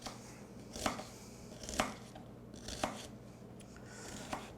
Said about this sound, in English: And I'm not cutting these up too small because I want the onion